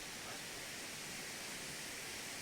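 A river waterfall in full flood at Calderglen, near the Torrance mine trough linn, gives a soft, even hiss of rushing water, heard faintly and without a break.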